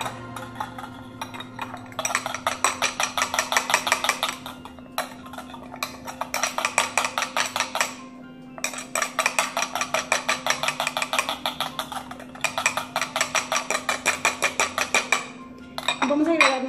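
Carrot purée mixture is stirred briskly in a bowl, producing rapid rhythmic clinking and scraping of a utensil against the dish in several long bursts with short pauses, close up, over a faint steady hum.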